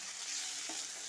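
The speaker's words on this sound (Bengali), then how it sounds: "এবার আলুটাকে নেড়ে চেড়ে করে ভেজে নেব" Potato pieces sizzle and get stirred in a pan while frying, a quiet, steady hiss with a couple of faint soft scrapes, close and brief with no voices.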